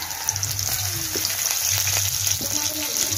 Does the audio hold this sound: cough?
no